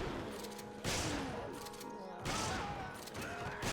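M3 shotgun blasts in Resident Evil 5, two heavy booming shots about a second and a half apart, each followed by a long rumbling decay over continuous game noise.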